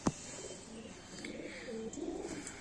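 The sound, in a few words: kaldume and kalpare pigeons cooing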